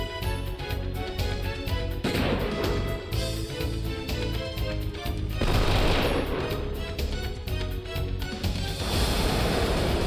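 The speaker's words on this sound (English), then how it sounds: "And then I'll have him use Gatling." Rapid Gatling gun fire from a Wild Arms 3 battle, dense rattling bursts repeating over the game's music, loud and continuous with short breaks between volleys.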